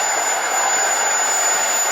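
An F-16 fighter jet approaching to land on a flight line with a landing gear fault, its jet engine a loud, steady roaring hiss that stays close and unbroken for the full moment.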